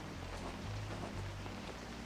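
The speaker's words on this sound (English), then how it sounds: "So it's raining here." Steady rain falling in the video game Fran Bow, an even continuous hiss with no clear individual drops, played alone at a low level.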